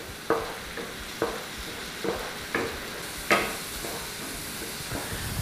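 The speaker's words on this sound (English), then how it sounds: "stirring the risotto from start to finish to get that creamy, delicious result" A spoon stirring mushroom risotto in a pan over medium-low heat, a soft sizzle with regular scraping strokes about once a second, close up and without talk.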